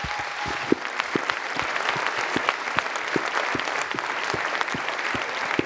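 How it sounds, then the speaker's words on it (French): Audience applause at the closing ceremony of the 2024 International Comedy Film Festival in Alpe d'Huez: a steady, dense wash of clapping that holds at an even level throughout, with sharp individual claps standing out near the microphone. "c'est eux qu'il faut applaudir"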